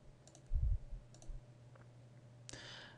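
A few soft, faint clicks from a computer mouse in a quiet room, with a low thump near the start and a sharper click toward the end.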